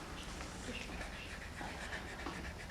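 Dog panting steadily in quick, soft breaths, close but faint over the whole stretch, no talk.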